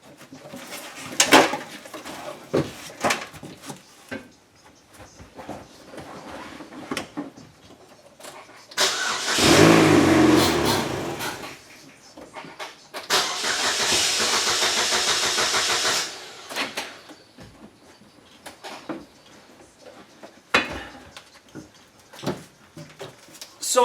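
A Chevrolet HHR being wired as a demolition derby car cranks and its engine catches, running briefly with a loud rough burst before dying, amid outdoor bird calls and clicking noises around it.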